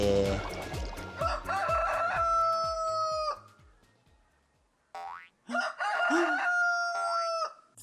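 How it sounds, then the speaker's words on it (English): A rooster crows a long, bright cock-a-doodle-doo in a cartoon-style animal sound quiz, clear and loud, then crows a second time after a quiet gap, with a bouncy boing effect at the start. "Roosters crow cock-a-doodle, like they are the sun's alarm clock."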